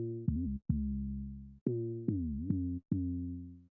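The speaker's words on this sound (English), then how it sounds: "right, the other 808s now, and these are for the chorus" Chorus 808 bass in a smooth club R&B beat, a run of long, sustained sub-bass notes with gliding pitch bends. Five or six loud, distorted hits each ring out alone, with short gaps between them.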